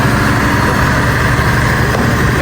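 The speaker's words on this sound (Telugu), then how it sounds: "ట్రైన్ పోతుంది." A train rumbles past near Vizag beach, a loud, dense, steady low roar of engine and wheels filling the whole moment without a break.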